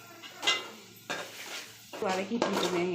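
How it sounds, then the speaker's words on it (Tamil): Masala for chicken gravy being sautéed in a pan, with a few clanks and scrapes of a spoon against the pan over a faint sizzle, close and intermittent, with some voice in the background. "இப்போ வந்து நான் அதுக்கு உண்டான மசாலா தான் நான் வதக்கிட்டு இருக்கேன்"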